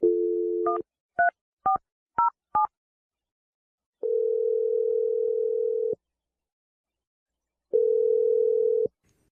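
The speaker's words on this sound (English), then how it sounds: "I'm going to dial the number right now" A telephone call placed by hand: a steady dial tone, then five quick keypad tones in a row, followed by two long ringback tones separated by silence, clean and close.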